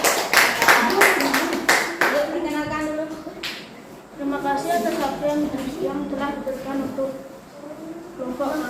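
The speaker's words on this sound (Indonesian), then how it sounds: "Kita beri tepuk tangan dulu anak-anak, biar semangat juga." Schoolchildren clap hands together in a classroom before a group presentation, a brief burst of claps at the start before a teacher's voice and then a student's voice take over and continue talking.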